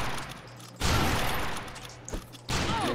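Gunfire from the Deserter character in the video game Secret Ponchos: loud bursts of shots that cut in sharply, drop away briefly, then return, with no talking.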